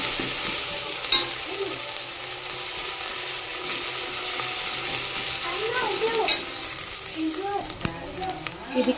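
Vegetable pulao with ginger and garlic sizzles in a pan while a spoon stirs and scrapes through it in repeated strokes, with brief faint voice sounds in the background.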